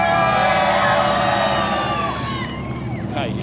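A crowd at a supercar show cheers and whoops loudly, a dense wash of shouting and high-pitched screams with a few voices standing out as it thins slightly toward the end.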